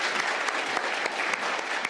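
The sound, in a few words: audience clapping at book festival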